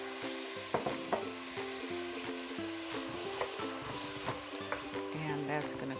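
Peppers and onion frying in oil in a pot, a steady loud sizzle with occasional crackles and pops, while background music plays underneath.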